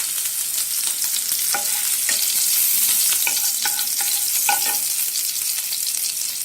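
Garlic and green chillies fry in hot oil in a kadhai, a steady close sizzle throughout with a few light clinks of a stirring spoon against the pan, no voices.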